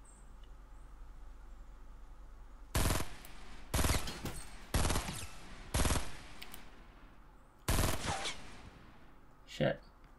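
Burst assault rifle firing in Fortnite Battle Royale, with five loud, sharp bursts of rapid shots spaced about a second apart and then a shorter, quieter shot near the end.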